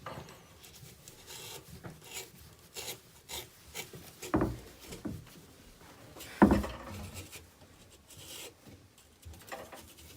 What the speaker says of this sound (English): grab onto this flange here and loosen that up and unscrew it